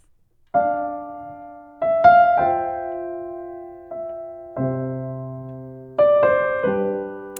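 Piano chords are played one after another in a slow progression, each struck clearly and left to ring before the next.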